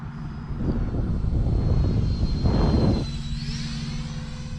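An E-flite Habu SS 50mm electric ducted-fan RC jet makes a slow, low pass on a windy day, its steady whine swelling as it nears and then fading, with wind buffeting the microphone throughout.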